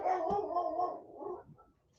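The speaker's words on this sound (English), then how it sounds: "I don't know why their dog's barking." A neighbor's dog barks and howls outside, heard at a distance through the open air as one drawn-out, wavering bark-howl that trails off into quieter whimpering.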